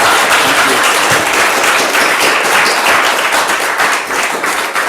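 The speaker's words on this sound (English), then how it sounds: "can we have a last round of applause for Glenn and his time?" Loud, dense audience applause at the close of a public talk, sustained steady clapping from a large crowd that thins slightly toward the end, with no talk over it.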